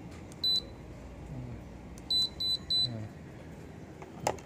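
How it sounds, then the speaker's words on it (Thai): The mainboard of an Electrolux front-load washing machine, under repair because it will not power on, gives one short electronic beep, then three more in quick succession, over faint background noise. "ดังปี๊บนี่น่าจะรอดนะครับ"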